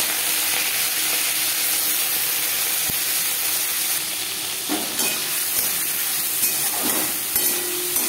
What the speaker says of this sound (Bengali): তেজপাতা, জিরে, শুকনো লঙ্কা ভেজে নেওয়ার পর দিয়ে দেব মাছ